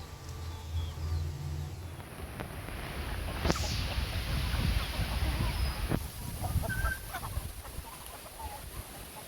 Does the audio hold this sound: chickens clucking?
yes